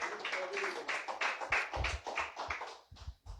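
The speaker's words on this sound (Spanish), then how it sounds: "Dele fuerte aplauso al Señor, aleluya." A church congregation claps in a fast, irregular rhythm, many hands together at moderate distance, with voices mixed in beneath the applause.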